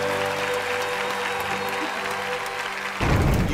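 A studio audience at a televised magic and illusion show breaks into steady, dense applause that runs throughout, mixed with background music, then swells louder near the end.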